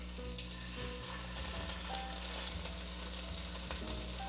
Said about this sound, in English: Alright, let's sear this.